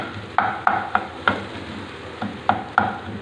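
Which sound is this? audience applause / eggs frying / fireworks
eggs frying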